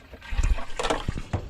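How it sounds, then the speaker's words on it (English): Water runs from a tap, a short burst of splashing and gurgling with irregular bumps and spatters, close and moderately loud. "I'm gonna have to turn the water tap off."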